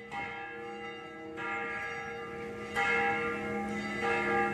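A church bell at Jaro Church in Iloilo, Philippines, rings steadily with long ringing tones, its strokes swelling in loudness at intervals over a quiet background, with no talking.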